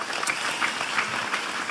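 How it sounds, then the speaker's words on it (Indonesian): A seated audience at an Islamic gathering gives steady, moderately close applause throughout, with no voices rising above the claps. "tepuk tangan untuk Vanessa ini"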